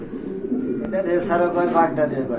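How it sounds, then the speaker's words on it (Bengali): Racer pigeons coo softly in a loft, with low, throaty, rolling calls close by. Someone talks over them. "এখানে কিন্তু আরেক জোড়া কবুতর আছে"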